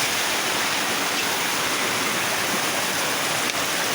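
A river flows in a loud, continuous broadband rush of water, close by and steady throughout with no voices.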